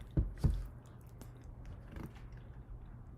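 A bite of Brave Robot animal-free dairy PB and Fudge ice cream, with two sharp close crunchy bites followed by quieter chewing and soft mouth sounds.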